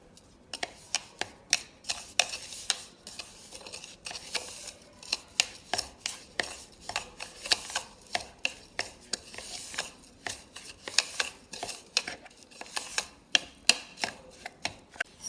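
Crushed Oreo biscuits being stirred and pressed with a little milk and butter into a stiff dough, giving a steady series of soft clicking, scraping spoon strokes, close and quiet.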